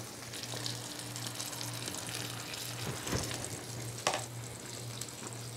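Bagels toasting in melted butter on a hot griddle give a continuous, moderate sizzle with a low steady hum beneath and a couple of brief clatters, no voices.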